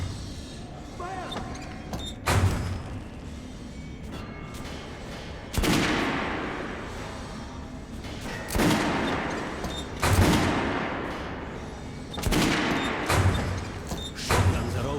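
Guns fired at a shooting range in the game Metro: Last Light Redux: about five sharp, loud shots a few seconds apart, with voices and background game sound between them.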